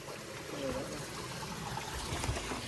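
Water from a mountain spring trickles and splashes in a steady, broad rush heard up close, with a voice speaking over it.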